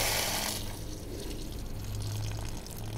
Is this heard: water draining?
yes